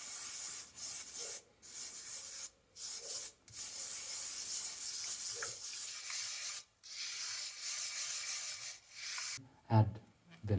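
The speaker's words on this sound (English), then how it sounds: "We're gonna make it into a paste and then apply it and rub it into the pan." Baking soda paste being rubbed into a cast iron pan gives a steady gritty scrubbing hiss in repeated strokes, broken by short pauses, close up and with no talk.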